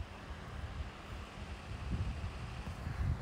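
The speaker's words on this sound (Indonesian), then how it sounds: "Maaf ya suara kipas." An electric fan running indoors makes a soft steady whooshing hum at low level, with faint thumps of wind buffeting the microphone.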